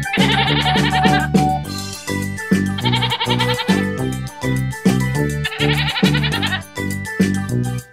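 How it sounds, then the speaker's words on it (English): A goat bleats loudly and repeatedly in a quavering, wavering cry, the calls set against a bouncy, rhythmic backing tune that runs throughout. "Goat."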